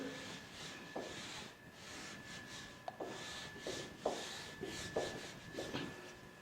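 An eraser or duster rubs writing off a board in a classroom, a run of soft scraping strokes in steady rhythm, with faint taps at the end of several strokes, close and fairly quiet.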